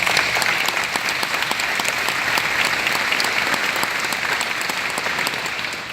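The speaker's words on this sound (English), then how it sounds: "I think that deserves a round of applause" Graduation audience breaking into dense, sustained applause for students' scholarship achievements, many hands clapping together at an even level throughout, fading slightly at the end.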